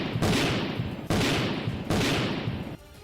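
Blasts rip through a burning Russian ammunition depot near Bakhmut, three loud, sharp detonations each followed by a long crackling roar and rumble, arriving in quick succession before the noise drops away.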